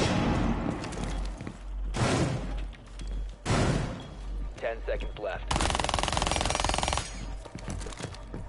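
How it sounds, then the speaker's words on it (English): Rapid bursts of SMG-12 submachine gun fire in Rainbow Six Siege, several loud sustained volleys separated by short gaps, with voices talking over the shooting. "my recoil control on that SMG-12"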